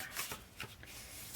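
Paper being folded for a pop-up Christmas card, a few quick, close rustling crinkles and creases in brief soft bursts.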